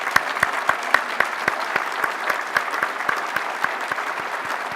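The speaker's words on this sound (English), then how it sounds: "please give him a brief round of applause" Audience applause at an award presentation, loud steady clapping with a prominent nearby pair of hands beating a regular rhythm over the crowd's continuous patter.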